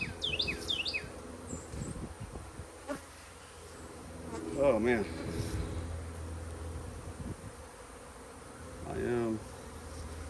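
Honeybees buzz steadily around an open hive in a split at an apiary, a low continuous drone with a few brief louder swells as bees pass close; someone speaks briefly in the middle.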